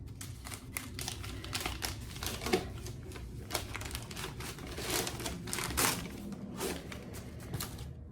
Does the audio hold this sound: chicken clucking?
no